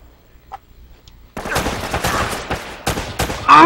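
Gunfire from the video game Uncharted: Drake's Fortune erupts after a quiet start, a loud, dense volley of rapid shots and sharp bursts continuing to the end.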